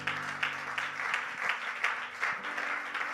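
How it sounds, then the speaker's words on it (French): A church congregation claps together in a steady, even rhythm of repeated beats, filling a reverberant hall with a faint hum beneath, no clear speech. "Acclamons le Seigneur."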